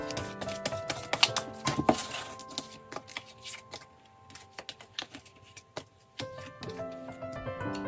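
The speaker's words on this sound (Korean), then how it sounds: "그럼 셔플 시작할게요." Tarot cards are shuffled by hand in quick bursts of crisp riffling taps and slaps, close and fairly quiet, with a short lull midway before the shuffling resumes, over faint background music.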